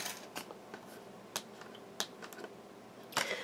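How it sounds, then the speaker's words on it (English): Tarot cards shuffled by hand close up, giving a series of short crisp flicks and taps with a brief louder riffle near the end, no talking. "as I was shuffling, 2 cards came out"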